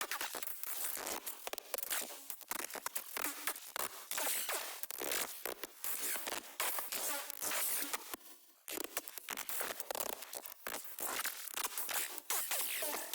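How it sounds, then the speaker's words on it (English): Glitchy synth ambience from a glitch-therapy style preset in Hive, a dense stream of crackling, tearing digital bursts with rapid stuttering gaps that runs continuously and fills the space on its own. "I just threw this in to throw in a little bit of background glitchy ambience"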